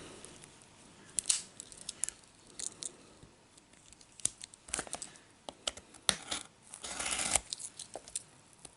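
Packaging for a 1/64 Kyosho Ferrari 456GT model car being cut open, with scattered sharp snips, crinkles and plastic rustling close by, irregular and fairly quiet, with no talk.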